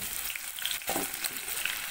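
Sugar and onion frying in a pan while being stirred, a steady close hiss and crackle with a soft scrape of the spoon partway through.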